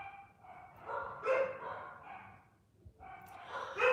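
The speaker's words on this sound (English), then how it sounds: "the dogs are barking" Several dogs barking and yipping in bursts at moderate distance, with short pauses between volleys and a brief whine among them.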